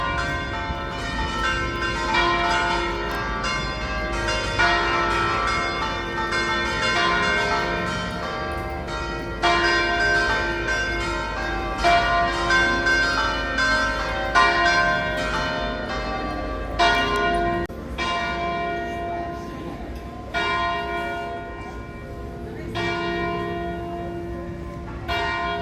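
Church bells ring near the railway station in Ventimiglia, Italy, peals overlapping in a continuous loud, resonant clangour with repeated strikes lasting the whole stretch.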